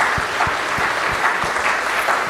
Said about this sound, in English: Let's give them one more clap.